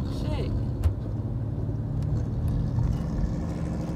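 A loud car engine nearby, a steady low rumble and drone that holds throughout with a few faint ticks on top and no clear talking.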